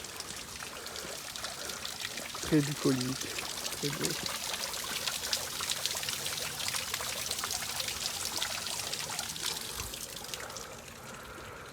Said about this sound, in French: Une magnifique cascade à mi-chemin.